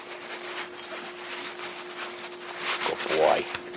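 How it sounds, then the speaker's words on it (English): A dog whimpers and yips with short high whines building toward the end, close by, while a person talks over it. "They're good dogs."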